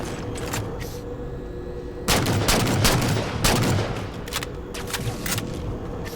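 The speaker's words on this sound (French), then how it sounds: "On nous tire dessus!" Bursts of gunfire in the Halo 4 video game, several loud sharp volleys in quick succession over a steady background ambience, with no talk.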